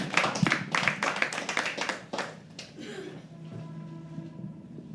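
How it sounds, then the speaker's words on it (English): Audience applause at a live poetry open mic, dense clapping that fades after a couple of seconds into quieter room noise with a few scattered claps. "Keep clapping till she comes on stage."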